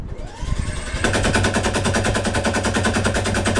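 Rapid automatic gunfire from the Fortnite video game, a dense rattling burst that starts after a brief lead-in and runs loud and steady to the end.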